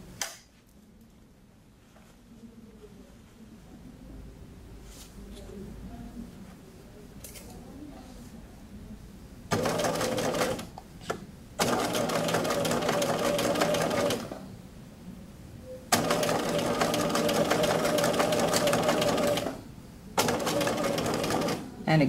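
A sewing machine stitches a placket into a sleeve along the fold edge, running in several loud, close bursts separated by quiet pauses, after a quieter opening stretch.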